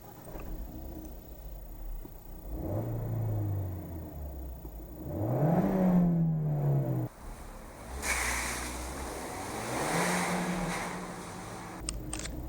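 A Fiat 124 Spider pulls away, engine revving up through a couple of rising gear pulls and settling between shifts, heard from inside the car with no one talking.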